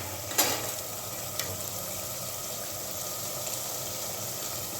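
Frying in a pan while cooking fish curry, a steady soft sizzle and hiss running throughout, with one or two brief stirring clinks near the start, quiet and close with no talking.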